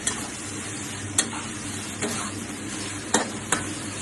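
Minced chicken being stir-fried in a pan for a Thai holy basil stir-fry, a steady close sizzle with occasional sharp clacks of the spatula against the pan and no talking.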